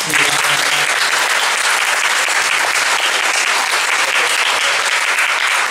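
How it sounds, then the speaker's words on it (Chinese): An audience at a music workshop panel at Huashan gives warm applause for a singer. The clapping is dense, steady and loud from start to finish. "我们再次鼓掌，谢谢他"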